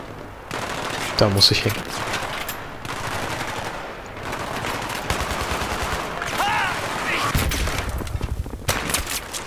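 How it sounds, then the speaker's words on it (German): Bursts of machine-gun fire and scattered gunshots rattle through a Battlefield 3 firefight. The fire comes close and loud in irregular volleys, and someone speaks briefly over the shooting. "Ich habe irgendwas von MG gehört. Boah. Starker Beschuss."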